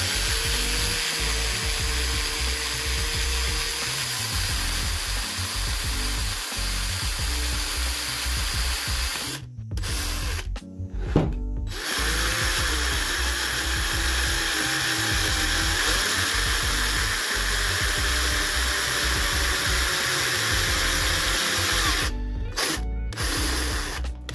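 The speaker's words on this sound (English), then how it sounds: "All that I'm going to do is drill that hole out there and use this drill" A power drill bores out a hole for a DIY Halloween brain-in-a-jar prop, whining loudly and continuously, dropping out briefly twice as the trigger is released.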